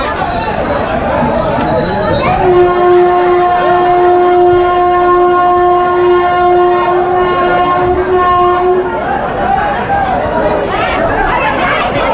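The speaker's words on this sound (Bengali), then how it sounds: "রায়গঞ্জ রেলওয়ে স্টেশন থেকে এই যে কলকাতার রাধিকাপুর এক্সপ্রেস রয়েছে" Radhikapur Express bound for Kolkata at a crowded Raiganj railway station, a loud sustained horn blast over rumbling carriages and continuous crowd chatter on the platform.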